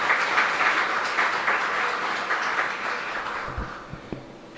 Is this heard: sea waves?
no